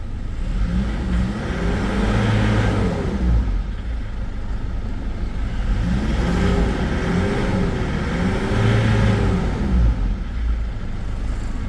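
A Ford Everest engine with a fault code P0093 and low-power problem runs loudly nearby, a steady rough idle that swells twice in smooth revs and then settles back.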